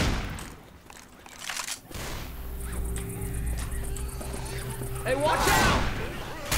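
Bursts of gunfire ring out in a Left 4 Dead co-op round, sharp and fairly close, mixed with game noise while players talk over it.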